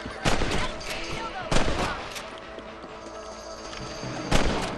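Revolver shots ring out in the Western video game Red Dead Redemption while hunting rabbits: three sharp, loud cracks spaced a couple of seconds apart over a quiet outdoor ambience.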